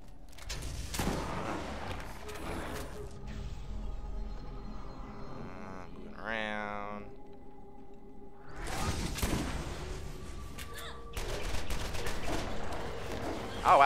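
Shotgun blasts ring out in Borderlands, several loud, sharp bursts spaced a few seconds apart amid game effects and a whooshing tone, ending with a final close shot.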